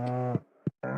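A cow in the Stardew Valley farming game lets out a short moo, a brief low call followed by a second quick burst, near and fairly clear.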